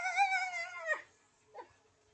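A pet dog gives a bark that sounds like a cockerel's crow: one drawn-out, wavering tonal call, then a short fainter yelp. Both are close, with no talking.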